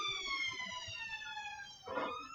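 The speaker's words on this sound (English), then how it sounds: "Bloody ambulances." A passing ambulance siren wails in a steady high tone that slowly drops in pitch as it moves away, faint and distant, with a brief louder burst of traffic noise near the end.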